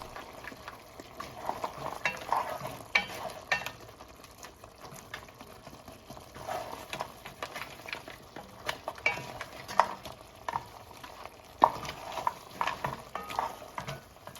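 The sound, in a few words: gently mixing egg into yellow curry crab sauce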